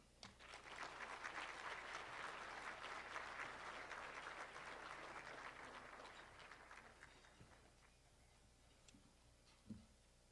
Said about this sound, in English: if you would give a big round of applause to Vice President of Research and Innovation, Mridul Gautam.